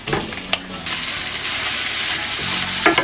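A spoon scrapes and stirs thick mashed potato in a hot pan, sizzling steadily, with a couple of sharper knocks against the pan, close up.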